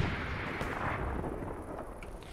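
Artillery fire rumbles on a Kursk front in a war video game, a dense, muffled, continuous roar of distant blasts with no clear single shot standing out.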